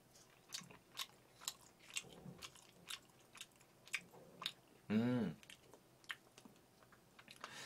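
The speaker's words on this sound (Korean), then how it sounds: "새우볶음밥 먹어보겠습니다" Someone eats shrimp fried rice with close, crunchy chewing in a steady run of bites, broken midway by a short loud vocal sound.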